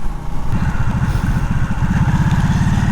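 A motorcycle engine rumbles steadily while riding, a loud close throbbing drone that runs throughout with no talk.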